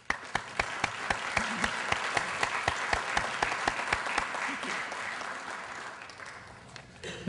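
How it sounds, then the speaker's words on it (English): A lecture-hall audience at a 2006 global diseases lecture series gives steady applause for the staff, many hands clapping at a moderate, fairly distant level, with a few sharper claps standing out. "I'd like to give them and the rest of the staff that have allowed us to do this a little applause"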